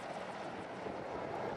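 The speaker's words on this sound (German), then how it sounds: "Der Hubschrauber mit Massouds sterblichen Überresten trifft im Dorf ein." Helicopter arriving at a village in the morning: a low, muffled rotor drone, faint and steady as if some distance off.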